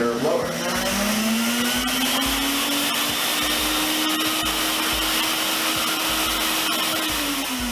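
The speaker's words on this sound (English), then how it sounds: "when you turn on, it is now a inflator blower." A Sirena System water-filter vacuum runs with a blower tip fitted to its wand as an inflator blower, a loud steady motor whine that rises in pitch as it spins up and holds close throughout.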